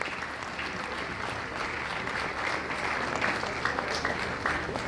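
Conference attendees at the 2025 UNICAL College of Education annual conference keep up a sustained round of applause for a speaker, a continuous crowd of clapping hands at moderate level that swells slightly toward the end.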